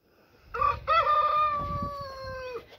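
A blue mottled Brahma rooster crows once, close and loud, in a long drawn-out call that follows a few short clucks.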